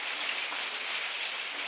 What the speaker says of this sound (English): That noises the rain outside.